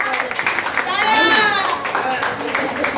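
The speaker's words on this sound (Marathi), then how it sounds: "अरे टाळ्या वाजवा, आवाज." An audience at an International Women's Day event claps in a brief burst of hand clapping mixed with voices and cheering.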